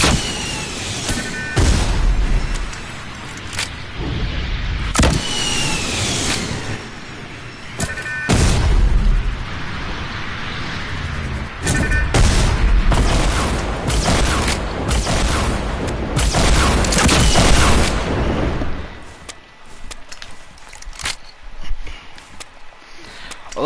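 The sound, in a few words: rocket launcher firing and exploding in video game Fortnite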